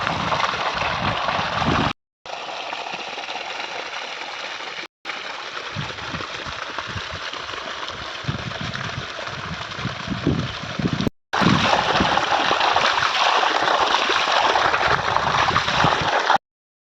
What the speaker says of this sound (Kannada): ಕಾಲುವೆಯಲ್ಲಿ ನೀರು ಹರಿತಿರೋದು